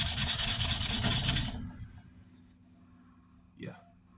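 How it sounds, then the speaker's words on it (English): Steady scraping rub of sandpaper on a handmade knife blade, loud for about a second and a half, then stopping and leaving a quiet room with a brief voice near the end. "I think I have got it sanded enough"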